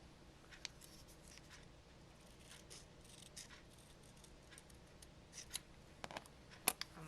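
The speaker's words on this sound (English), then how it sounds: "And then I'm going to cut a little Y strip" Scissors snipping Kinesio tape into a Y strip for a bunion taping, a few faint, quiet clicks and cuts spaced irregularly, growing slightly sharper toward the end.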